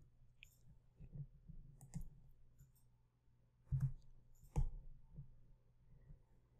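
Computer mouse clicking while labeling a chart in MotiveWave trading software, a few sparse, quiet clicks spread apart in a soft, quiet room.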